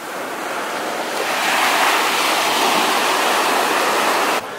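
Ocean waves wash onto the beach at Gili Trawangan in a loud, continuous roar of surf with some wind on the microphone and no talking.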